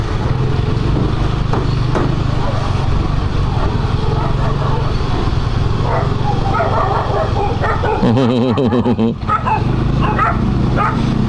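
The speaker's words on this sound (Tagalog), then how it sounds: "tinatahol ng aso siya" Dogs bark and yip repeatedly under loud, continuous background noise and chatter, with a brief burst of a different tonal sound near the end.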